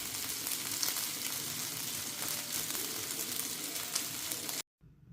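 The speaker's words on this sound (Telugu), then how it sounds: "ఇలా రెండో వైపు కూడా తిప్పేసి బాగా ఫ్రై చేస్తూ ఉన్నారు చేపల్ని" Fish frying in a pan, a steady close sizzle and crackle of hot oil holding evenly for several seconds before cutting off abruptly near the end.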